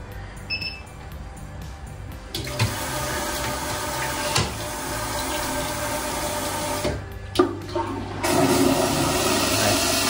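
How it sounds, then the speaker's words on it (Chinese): An automatic smart toilet flushes with a rushing gush of water that swells after a few soft clicks and refills steadily at close range, with no talk. "然后你每次起来，它就帮你冲一次水"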